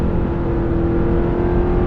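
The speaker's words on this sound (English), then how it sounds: "I'm going to hit the gas and see how it feels, see if it's really any different" A GMC Sierra pickup with a 4-cylinder turbo engine accelerates in sport mode, producing a steady, loud engine drone with a constant hum and no voices.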